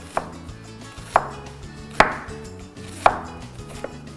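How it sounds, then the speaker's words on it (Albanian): A knife slices an onion into rings on a cutting board, with about four sharp, evenly spaced chops roughly a second apart, close and clear with no talking. "qepën nuk e presim në kubza, po e presim në rrath"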